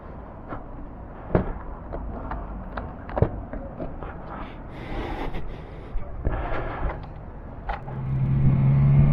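A Suzuki Bandit 650 motorcycle on the road, its engine a steady low rumble mixed with wind noise and a few thumps, swelling louder toward the end of the ride.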